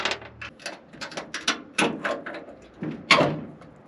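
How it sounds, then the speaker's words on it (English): An old Chevy 1.5-ton double dually truck door is worked open after a hinge bolt is pulled, giving a string of metallic creaks, clunks and scrapes that build to a louder knock near the end. "The easy way to open a door."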